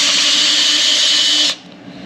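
A power drill bores a 3/8 inch hole with a steady, loud high whine for about a second and a half, then cuts off, leaving a faint hum.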